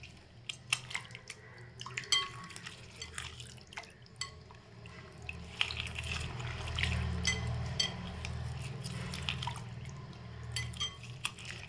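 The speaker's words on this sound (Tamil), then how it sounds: "அதனால் நல்லா கையால் பிசைஞ்சுக்கோங்க." Raw tamarind is kneaded and squeezed by hand in water for rasam, making a continuous close, wet squelching with small drips and splashes.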